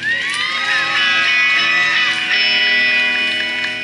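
Crowd at an outdoor July 4 country music concert at Tempe Town Lake cheering and whooping, a steady loud wash of shouts and yells with high whistles running through the whole stretch.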